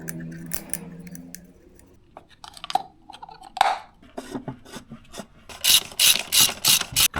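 A new oil filter goes onto a Mercedes W245 B-Class, with close, crisp ratchet clicks and metallic tool sounds, building into a quick rhythmic run of loud clicks near the end.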